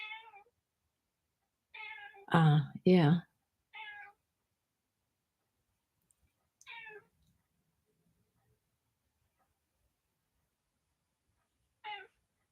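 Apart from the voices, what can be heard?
cat meowing, upset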